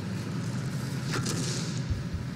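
A muffled artillery shell blast lands behind a tank in a World of Tomatoes tank battle game, a single brief boom over a steady low engine rumble.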